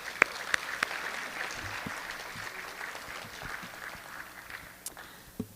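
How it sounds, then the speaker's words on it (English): Scattered applause from team parents and fans at a high school fall sports awards event, fairly faint and thin, fading over a few seconds with a few louder individual claps. "So we can clap for them."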